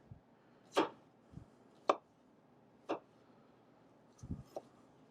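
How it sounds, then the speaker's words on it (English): Knife cutting thin slices on a cutting board during a cooking demonstration, four distinct sharp chops spaced about a second apart and then a softer cluster of taps, close and clear over a quiet room. "So we're just going to put some nice thin slices here."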